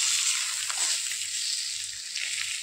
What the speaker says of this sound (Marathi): फिश आपण उलटवून घेऊया एक बाजूने.